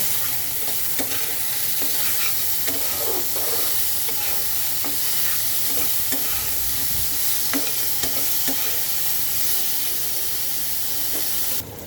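Boiled potatoes and peas, salted, fry in a pan as a spoon stirs them. A steady close sizzle and hiss runs throughout, broken by scraping stir strokes.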